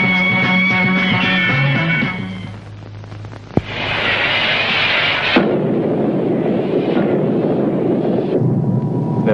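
Sci-fi laser bombs fire at a spaceship in a 1970 space adventure series: a droning electronic texture, then a sharp single blast followed by a sustained, roaring noise wash that fades in and out.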